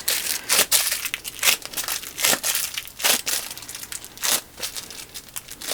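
A plastic piping bag filled with resin is twisted and squeezed close up, giving a run of loud, irregular crinkling and crunching bursts with no voices.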